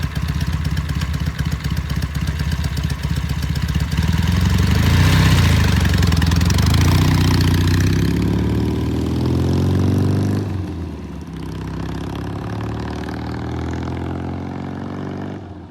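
A Norton motorcycle engine runs loud and steady throughout, rising in revs mid-way as gears shift up, then easing to a lower, settled drone near the end.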